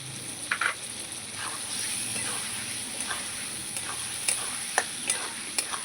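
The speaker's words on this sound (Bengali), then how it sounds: "এবার নাড়াচাড়া করে নেব মশলাগুলো আলুর সঙ্গে" Potatoes and ground spice paste sizzle steadily in a frying pan close by, as the mixture is stirred with light scraping taps at irregular intervals.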